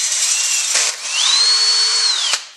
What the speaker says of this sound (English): the final hole is going to get drilled to a number 35 drill bit, which is 110 thousandths